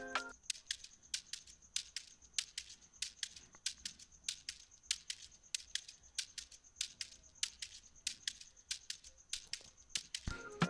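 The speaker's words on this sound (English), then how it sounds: "So this is how my shaker sound like." A shaker in an Afrobeat made in FL Studio 20 plays a steady, even rhythm of crisp, quiet rattling strokes, heard alone.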